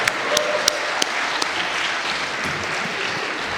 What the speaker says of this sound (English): Another round of applause for our grade 6 beginner concert band.